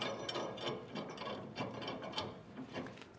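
Ratchet wrench driving a hex bolt with split lock and flat washers into the rear cross member of a 2016 Chevrolet Silverado, a steady run of fast, faint clicking with no voices.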